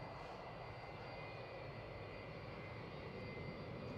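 A JetBlue jet in Mint Leaves livery takes off from Edinburgh Airport, a faint, distant engine roar holding steady and even with no voices.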